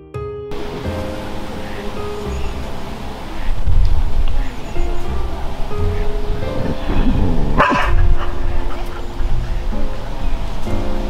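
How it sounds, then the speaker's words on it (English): A dog barks intermittently at a rocky waterside fishing spot, over a constant wash of surf with a sharp burst near the end. "The dog was barking."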